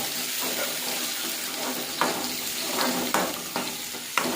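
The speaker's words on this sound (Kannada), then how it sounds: "ಸಾಸಿವೆ, ಹಸಿಮೆಣಸು, ಈರುಳ್ಳಿ ಚೆನ್ನಾಗಿ ಬೇಯಿಸ್ಕೊಳ್ಳಿ." Mustard seeds, green chili and onion fry in hot oil with a dense, close sizzle, broken by a few sharp clinks of a spoon stirring against the pan.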